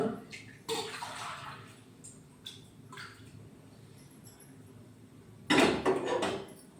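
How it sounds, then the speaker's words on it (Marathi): Two bursts of splashy pouring of hot water into a pot, a short one early and a louder one near the end, with faint clinks and knocks between. "इकडे थोडंसं गरम पाणी मारून देते, म्हणजे लवकर उकळी येईल."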